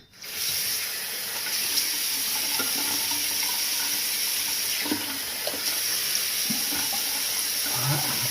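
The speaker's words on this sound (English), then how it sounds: "I'm gonna go ahead and rinse my face," Tap water running steadily into a sink while a face is rinsed after a straight razor shave, with soft splashes and occasional small knocks over a constant hiss.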